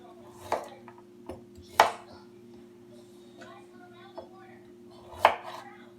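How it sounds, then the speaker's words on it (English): Knife chops through small Chioggia beets on a cutting board, a few sharp, distinct cuts spaced apart against a quiet background hum. "I'm just going to chop them right in half"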